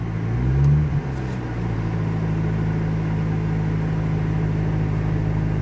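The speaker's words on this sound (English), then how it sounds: "It's got a weird exhaust note." A Toyota car engine idles with a low, steady droning exhaust note that sounds abnormal, briefly revving near the start, then holding a constant rumbling hum close by.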